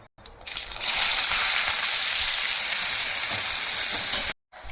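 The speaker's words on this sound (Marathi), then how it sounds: "जिरे लाल झाले की लगेच कांदा टाकून घ्या." Onion hitting hot oil with cumin seeds, a loud steady sizzle and crackle of frying that starts abruptly and holds evenly, then cuts off, with no talking.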